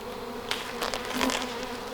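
Honeybees buzz steadily and loudly at close range during an inspection of a new hive, a dense continuous drone with individual bees swelling nearer now and then.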